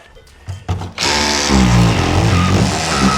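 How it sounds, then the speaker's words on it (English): A Makita multi-tool cuts into a drywall ceiling, starting after a few clicks and handling bumps, then buzzing loudly and steadily at close range. "So I'm gonna get my multi-tool"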